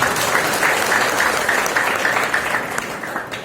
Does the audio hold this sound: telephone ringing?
no